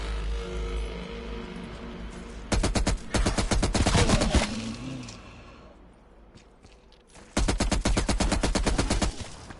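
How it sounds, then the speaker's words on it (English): Bursts of rapid automatic hip-fire gunshots at zombies in Call of Duty: Black Ops Cold War, from a big LMG, loud and close, in two long volleys separated by a short lull. "Kill zombies with hip fire."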